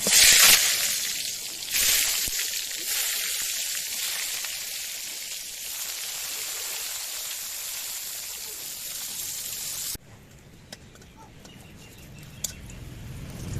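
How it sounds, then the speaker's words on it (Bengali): Spice-coated eggplant slices hit hot oil in a pan and set off a loud, crackling sizzle that holds for about ten seconds before dropping abruptly to a much quieter background. "এবার দিয়ে দিতেছি এই যে আমি বেগুন মশলা দিয়ে মাখিয়ে রাখছিলাম, বেগুন ভাজি করব।"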